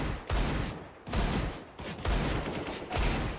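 Bursts of gunfire in the video game CS:GO during a pro Complexity vs BIG match, several rapid volleys in quick succession with short gaps, loud and close.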